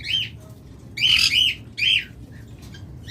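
A caged pair of masked lovebirds, blue or violet masked, at a bird sale gives three sharp, loud squawks close by in quick succession over a low background hum.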